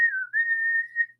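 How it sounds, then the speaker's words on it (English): A person whistling one steady, nearly unwavering tone with a short break partway through, close and clear with nothing else heard. "I like to whistle."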